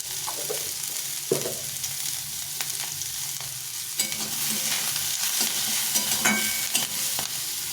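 Vegetables hiss and crackle in a hot pan for veg chowmein while a utensil repeatedly scrapes and taps, stirring them at an uneven pace.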